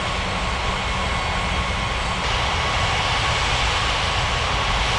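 In an air traffic control video game, a jet aircraft approaching to land gives a steady, loud, broadband engine roar that stays even throughout, with no breaks.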